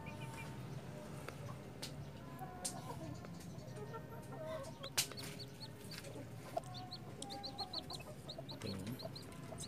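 A hen and her newly hatched chicks of the Yudhistira breed cluck steadily at close range, with high chick peeps scattered throughout and a voice occasionally in the background.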